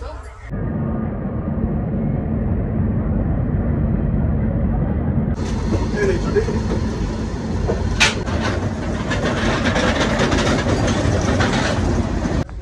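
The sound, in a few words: Howrah-Puri Shatabdi Express train departing Howrah station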